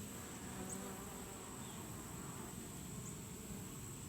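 Honey bees from an opened Layens hive during an autumn inspection, a steady low buzzing drone that holds constant and fairly close throughout, with faint higher insect whines passing over it and no talking.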